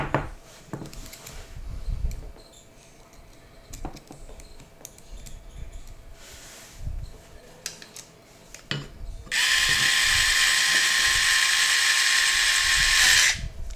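Tool tightening Chicago screws on an Armstrong quiver, a steady loud whirring run near the end after a stretch of small clicks, taps and handling noises.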